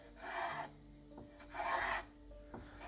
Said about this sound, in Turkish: İlk başta şerit şerit kesiyorum.